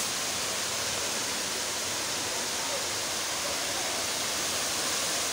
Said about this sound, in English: Side of attraction, Kintampo waterfall.